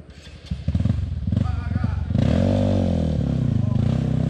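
Off-road trail motorcycle engine revving loudly and close, rising from a choppy idle into a sustained throaty roar with pitch climbing as throttle opens, voices shouting over it.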